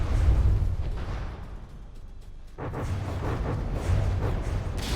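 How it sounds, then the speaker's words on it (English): Heavy rumbling explosions in a naval battle in the game From the Depths roll through, loud and booming, fading into a brief lull before another wave of deep blasts and crackling debris. "I really don't like all these explosions I'm seeing."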